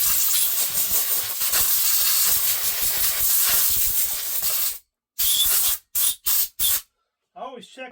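Compressed air hisses steadily while blowing debris off a new Neotec NS 846 chainsaw, followed by several short separate bursts and a faint voice near the end.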